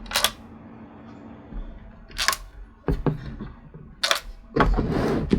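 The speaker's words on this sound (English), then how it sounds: "put all of our last 4 screws in." Screws being fitted into an Alienware Alpha computer case during a hard drive swap to an SSD, heard as a handful of sharp, close clicks spaced irregularly over a quiet room.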